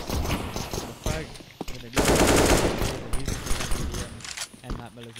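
Gunfire fills a competitive video game match: rapid automatic bursts and single shots crackle loudly throughout, with a commentator talking over the action.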